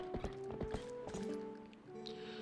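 Horse hooves clop in Zelda Twilight Princess HD, several quick hoofbeats up front over a steady game music bed, then fading into the background tones.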